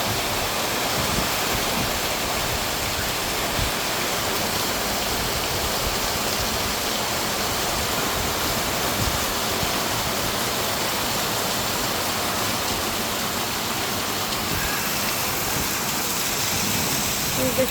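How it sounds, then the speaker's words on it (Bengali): Heavy rain pours down without pause in a dense, loud, even hiss that fills the whole stretch with no break in intensity. "প্রচুর বৃষ্টি, মানে কি বলবো"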